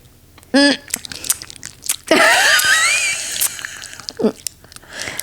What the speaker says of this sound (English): She's chewing her gum.